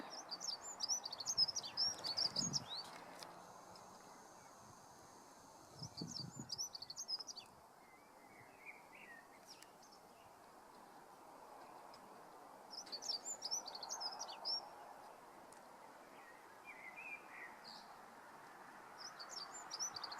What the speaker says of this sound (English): listening to the birds. I can hear them.